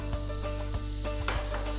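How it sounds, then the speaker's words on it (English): Onions, green bell pepper and garlic fry in a pan with a continuous close sizzle, small crackles and pops scattered through the steady hiss. "And then we have some green bell pepper. Nice and sizzling."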